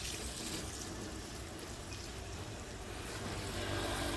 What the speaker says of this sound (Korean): 시원하게 또 물을 붓고 더 이제 햇빛에 달궈주고 좋아지겠죠.